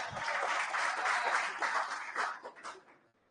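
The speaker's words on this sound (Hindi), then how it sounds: "जोरदार तालियां।" A class audience bursts into applause, a dense wash of clapping that holds steady, then thins into a few scattered claps as it fades out.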